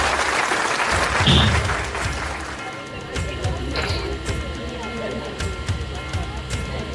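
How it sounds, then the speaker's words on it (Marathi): An audience at a village dance competition in Guhagar breaks into loud, dense clapping that peaks early, then settles into lighter scattered applause, with a voice speaking over it. "एकदा जोरदार टाळ्या होऊन जाऊ दे"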